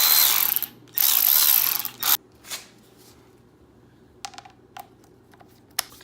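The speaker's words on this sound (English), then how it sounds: "I will be using my Milwaukee 3/8 electric ratchet for this job" A Milwaukee 3/8 electric ratchet working on a motorcycle oil drain bolt: two loud, buzzing bursts of the motor close by in the opening seconds, then quiet with a few short clicks and knocks.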